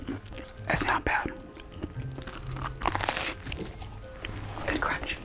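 Crunchy food is bitten and chewed close to the microphone in an ASMR cooking session, with crisp crackles and crunches between soft whispered speech.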